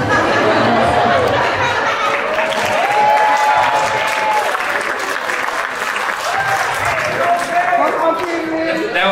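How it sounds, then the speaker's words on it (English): Applause from an audience at a performing arts academy show, a sustained wash of clapping at steady loudness throughout, mixed with crowd chatter and a little laughter. "That was a weak applause."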